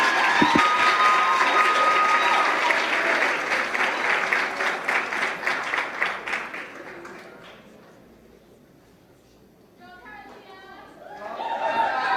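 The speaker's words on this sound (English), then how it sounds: "So one more clap" A banquet audience at a Cayman Junior Achievement awards dinner breaks into loud, dense applause with some chatter, fading to near quiet before a fresh burst of clapping swells back at the end.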